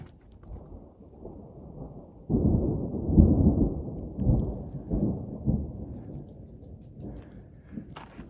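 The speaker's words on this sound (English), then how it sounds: "they're rumbling heavily, so maybe return of the thunder today, but maybe actually coming to mean business" Heavy thunder rumbling in the distance during a long-distance hike on the Pacific Crest Trail, as low rolling rumbles that swell, peak and fade over several seconds.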